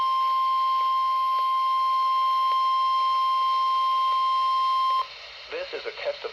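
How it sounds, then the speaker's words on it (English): Steady high attention tone from a National Weather Service weather radio warning alarm during a weekly test for the Central Highlands of Ohio, sounding continuously and loud for about five seconds before cutting off into faint background noise. "This is a test of the National Weather Service weather radio warning alarm"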